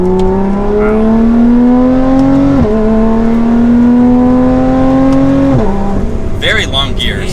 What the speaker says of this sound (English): The supercharger just gives that small little V6 just that power and muscle through the whole rev.